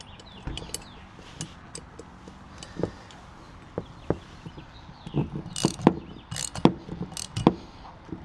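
Ratchet wrench tightening a bolt on a Timbren Active Off-Road bump stop being fitted to a GMC Canyon, giving a series of uneven, close clicks and clunks that grow denser toward the end with no talk.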